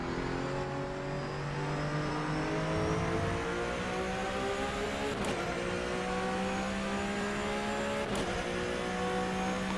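A race car engine from the rFactor 2 racing game on the Le Mans circuit drones steadily at high revs. Its pitch climbs through the gears, with a couple of brief shift breaks, and it is loud and continuous.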